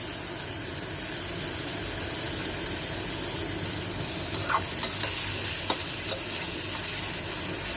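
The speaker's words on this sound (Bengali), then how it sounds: "আমি নুডলস রান্না করতেছি।" Noodles are stirred and fried in a pan with a steady, loud sizzle throughout, and a few sharp scraping and clinking strokes of a utensil come in the second half.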